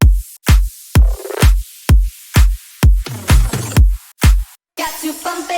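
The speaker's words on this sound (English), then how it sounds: "Altogether, the drums for your drop and second half and the fill should sound something like this." Future house drop drums: punchy, evenly spaced kicks with claps and hi-hats, building into a busier fill and ending on a bright crash, loud and upfront.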